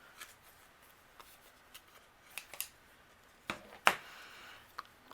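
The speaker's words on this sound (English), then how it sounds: "I'm going to trim off with my scissors." Scissors trimming an overhanging piece of paper in a holiday card craft, a series of quiet, sharp snips spaced irregularly, with one louder cut near the end and faint handling noise between.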